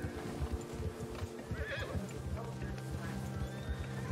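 A horse in Red Dead Redemption 2 gives a clear whinny over steady clip-clopping hooves, with game voices talking faintly underneath.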